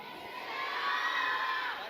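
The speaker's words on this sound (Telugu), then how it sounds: "గట్టిగా పిలుస్తాం." A congregation at a healing ministry service loudly calls out Yesayya together, a sustained swelling roar of many voices that rises and holds for about two seconds.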